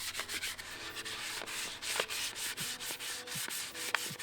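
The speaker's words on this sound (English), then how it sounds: "You're going to use 220 grit to start with and start taking all of this wood filler down, working in the direction of the grain the whole time" Someone hand-sands wood filler on a guitar body with 220 grit sandpaper, a soft, close rhythmic rasp of back-and-forth strokes at a steady pace.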